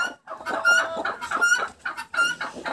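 Several broody hens in a farmyard cluck and squawk continuously, close by, in overlapping rhythmic calls, some rising into higher shrieks. No people talk.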